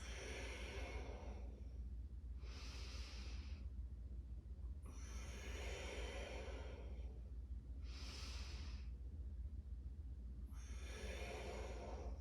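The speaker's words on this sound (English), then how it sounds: "Open your body a little bit bigger on those inhales. And ground down a little more on the exhales." Deep yoga breathing heard up close and with no talk: slow, long inhales and exhales alternate in a steady rhythm, roughly five airy breaths over a low background hum.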